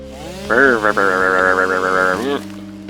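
A chainsaw in Satisfactory revs up and cuts through shrubs, a loud, steady buzzing whine lasting under two seconds with small dips, then stopping abruptly.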